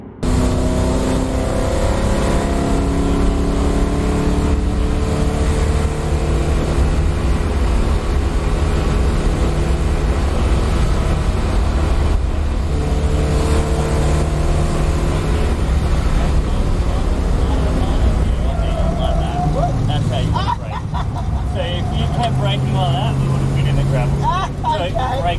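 V8 Supercar at full race pace on a hot lap at The Bend Motorsport Park, South Australia, a loud continuous engine roar heard from inside the car, pitch climbing through the gears and dropping under braking.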